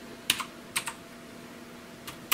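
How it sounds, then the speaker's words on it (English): Sparse keystrokes on an aluminum keyboard: a few sharp clicky taps, two of them in a quick pair, separated by quiet pauses, close and fairly soft. "makes a cool sounds like the old style keyboards did"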